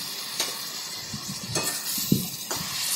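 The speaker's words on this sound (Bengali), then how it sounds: "এবার ভালো করে দেখুন পেঁয়াজটাকে মশলার সঙ্গে কষিয়ে নিচ্ছি" Onion sautés with turmeric and spices in a pan, a soft continuous sizzle broken by a few spoon scrapes and one small metallic clink, fairly quiet and with no talking.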